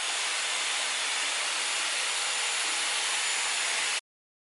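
A Dyson Airwrap blow-drying a section of damp hair gives off a steady, loud, airy whoosh. It holds even for about four seconds and then cuts off abruptly, with no talking.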